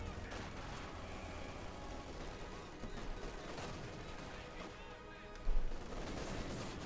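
Dense battlefield gunfire from Company of Heroes 2, with an artillery mortar firing amid a steady rattle of small arms and explosions; a sharper burst stands out near the end over continuous combat noise.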